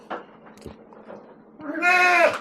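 Dorper sheep in a breeding pen, a few faint rustles and soft sounds before one loud, close, drawn-out bleat near the end.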